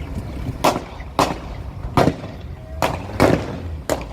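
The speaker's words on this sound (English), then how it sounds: "Gunshots being fired here." Gunshots fired during a police car chase on South African roads, six sharp reports spaced about a second apart over a rumbling vehicle background, fairly close and loud.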